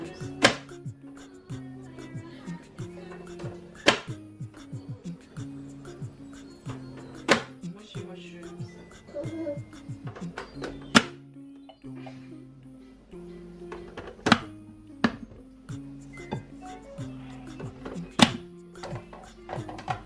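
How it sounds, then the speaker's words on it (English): Vegetables chopped for shakshuka in a home kitchen, sharp knife strikes on a board at an irregular rhythm, some in quick runs, over a steady low hum with clattering between cuts. "Once I chopped up the veg, I added some sunflower oil to two pans"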